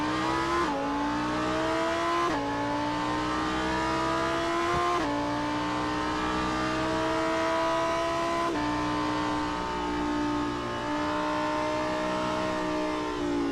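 A Lamborghini Super Trofeo race car, number 82, is heard from the onboard cockpit: a loud, continuous engine note climbing through the revs, with sharp drops at each upshift, several times in succession.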